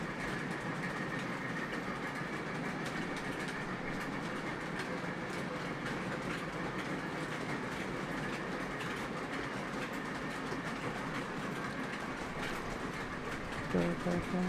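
Lionel Legacy O-gauge model of the 611 J-class steam locomotive running on track, a steady rolling rumble with faint rhythmic clicking throughout, moderately close and continuous.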